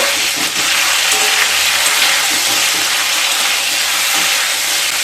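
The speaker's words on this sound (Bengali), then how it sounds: "এবার ফুলকপিগুলোকে খুব ভালো করে ভেজে নেব" Cut cauliflower frying in hot oil in a pan, a steady loud sizzle and hiss throughout with faint scraping as the pieces are stirred, no voices.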